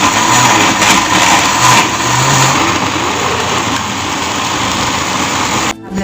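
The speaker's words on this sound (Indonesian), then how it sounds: "Blender sama wortel ya teman-teman ya." A kitchen blender whirs loudly while chopping carrots for vegetable donut dough, a sustained motor drone with shifting pitch that cuts out abruptly near the end.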